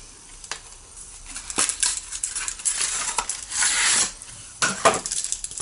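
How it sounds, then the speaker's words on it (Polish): Knuckle taps on a chocolate bar in a plain paper wrapper, a quick series of close, dry knocks mixed with crinkly rustling of the paper. "Fajny dźwięk jest z czekolady, jak pukam."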